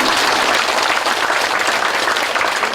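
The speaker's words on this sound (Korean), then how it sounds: "다시 한번 박수." Steady, dense applause from a lecture audience fills a Buddhist temple hall, loud and close throughout without any talking.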